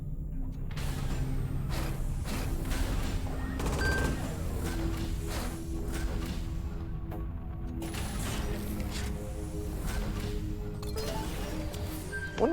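Sustained space-combat gunfire in Everspace 2, dense rapid bursts of shots and blasts running nearly continuously at high level, with a grenade-like burst mixed in and a sharp hit near the end.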